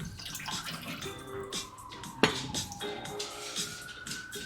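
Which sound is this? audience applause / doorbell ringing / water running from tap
water running from tap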